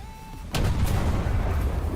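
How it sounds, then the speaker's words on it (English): A sudden heavy boom of tank cannon fire in a video game cuts in, followed by a sustained rumbling roar that lingers to the end. "There's an SPAO shooting him. Hence the gunfire we can hear."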